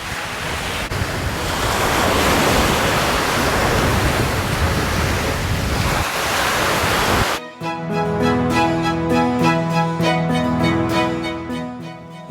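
Waves breaking on the beach at Gangneung, a loud continuous roar of surf with wind rumble for about seven seconds, then cutting abruptly to music.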